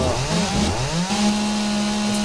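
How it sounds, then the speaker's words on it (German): A chainsaw in the video game 7 Days to Die revs and cuts, rising in pitch then holding a loud steady buzzing drone, close and without voices. "das kriege ich mit der Kettensäge nicht kaputt, ja?"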